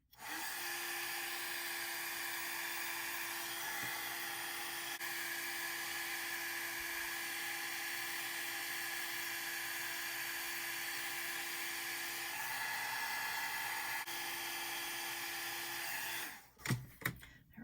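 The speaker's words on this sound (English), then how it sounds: "I'm going to reheat this so that the color gets soaked in permanently" An embossing heat tool runs continuously while reheating embossing powder on a dragonfly card, giving a steady, fairly close blowing whir for about sixteen seconds before it shuts off with a few clunks.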